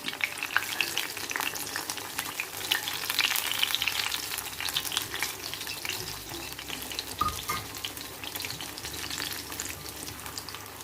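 Chakkapazham pori, ripe jackfruit fritters, sizzle in oil over a medium flame, making a continuous dense crackle with light scraping and stirring throughout.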